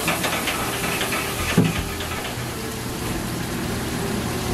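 Vegetable stock simmering and reducing in a pan with salmon and olive salsa, a steady close hiss with a soft bubbling texture throughout, one brief louder splash near the middle.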